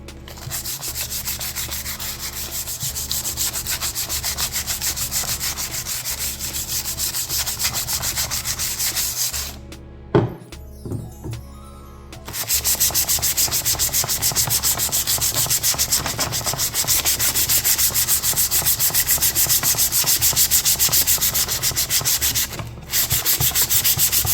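Sandpaper scuffs parts for a 1998 OBS truck before painting, producing continuous rapid rubbing strokes. A brief pause with a couple of knocks interrupts it midway, then steady sanding resumes.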